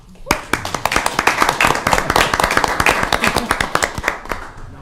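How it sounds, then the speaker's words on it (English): A city council claps in the chamber after a motion carries 6-0, a few pairs of hands slapping in crisp, distinct, fairly loud strikes that are close and uneven in rhythm, with scattered voices underneath. "Now we clap."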